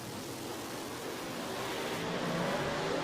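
Pro 275 drag race cars launch down the strip with a dense, steady engine roar that builds slightly and stays loud throughout.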